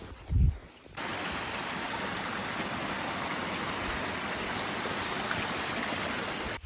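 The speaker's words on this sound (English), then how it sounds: "It's pretty and rainy and cold, so we'll see how today goes." Steady rain and running water along a rainy, cold mountain trail in Lofoten, Norway, a continuous broadband hiss that starts abruptly after a brief low thump and holds evenly loud throughout.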